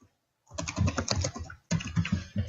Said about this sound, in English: And then over here, I'll type short vowels.